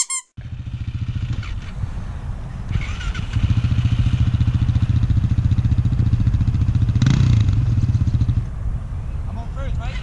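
A motorcycle engine revs and holds high throttle while a rider learns to wheelie in first gear, a steady loud drone that swells near the end, with people talking over it.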